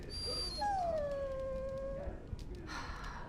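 A dog in the fantasy game Dragon Age: Origins lets out a single drawn-out whimpering howl that rises and then slowly falls over about a second and a half. It is close and clear over a low background hum, with no talking.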